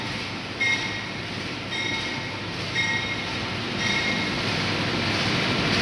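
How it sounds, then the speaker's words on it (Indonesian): The Kertanegara passenger train rolls into a station in Indonesia with a continuous heavy rumble, and brief high wheel squeals recur every second or so. No talking. "Nah ini ada kereta yang masuk dari arah Jogja ya teman-teman."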